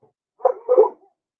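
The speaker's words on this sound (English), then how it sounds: "I don't know what they're barking at. Probably coyotes." Dogs bark at night, probably at coyotes, giving two short, close barks in quick succession, each one standing alone in otherwise silent surroundings.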